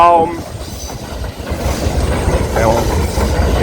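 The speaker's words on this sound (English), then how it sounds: "the train is mad loud" A train passes close by with a loud, continuous rumble and rattle of wheels on rails, a brief squeal rising near the end.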